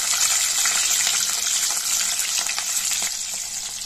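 Peeled shallots drop into hot oil and fry with a loud, dense, continuous sizzle, close up and steady before easing slightly at the end.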